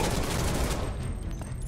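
Rapid bursts of gunfire ring out as crates are shot in Final Fantasy VII Remake, a dense fusillade of close shots that fades within under two seconds.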